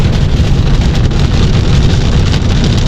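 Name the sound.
big raindrops falling during a storm on a lake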